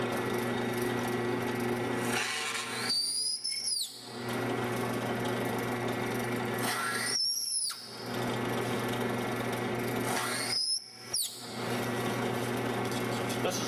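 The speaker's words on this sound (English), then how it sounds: "when I turn the OD and cut the teeth of the milling machine." A metal-cutting milling machine cuts gear teeth into wood with a steady droning whir, broken at regular intervals by three brief dips as each cut finishes. The machining continues alone at moderate volume.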